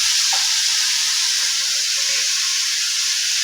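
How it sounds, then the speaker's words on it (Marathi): Grated bottle gourd sizzling in ghee in a kadhai for halwa, a loud, steady, close hiss of frying that holds evenly throughout with no talk. "आता मी हा भोपळ्याचा किस टाकून घेते कढईत,"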